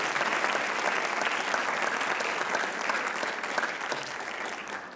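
Steady, dense applause from a student audience at a writers expo, continuous for five seconds with a faint crowd murmur underneath.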